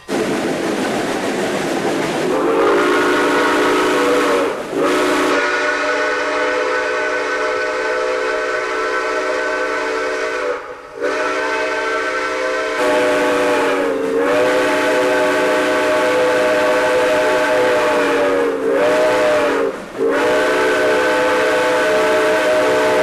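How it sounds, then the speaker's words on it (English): A 1911 Baldwin 462 steam locomotive sounds its whistle in long sustained blasts with brief breaks, loud and near over the steady rumble of the running engine. "This 1911 Baldwin 462 is one of the few remaining steam locomotives operating on a daily basis."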